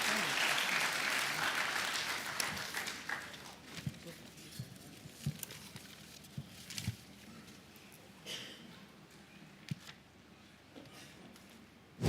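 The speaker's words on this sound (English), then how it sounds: "Please give yourselves a round of applause." Audience at a graduation ceremony for an intelligence management course claps steadily, a dense patter that fades from strong to lighter over about twelve seconds, with scattered louder individual claps and some background murmur.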